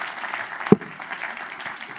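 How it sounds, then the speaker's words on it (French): Applause from an audience at a building and real estate trophy ceremony, a steady wash of clapping from a crowd at moderate distance, with one sharp low thump partway through. "Bravo, je crois qu'on peut les applaudir."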